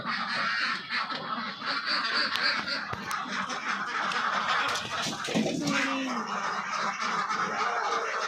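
Ducks in a laying-duck farm flock, about eight months old, quack and chatter continuously as a dense, steady background din, with a louder nearby call about midway through.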